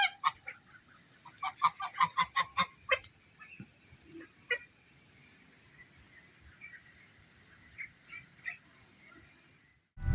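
Birds call at the Daman aviary bird park, with a cluster of loud, rhythmic squawks early on, then scattered fainter calls over a quiet background.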